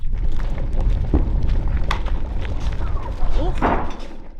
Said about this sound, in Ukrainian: Тут щохвилини чутно вибухи.